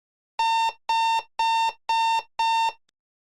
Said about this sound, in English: the alarm clock went off